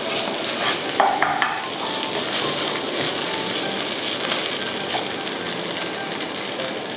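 Crab fried rice being stir-fried in a pan, a steady loud sizzle with scraping spatula strokes against the metal throughout.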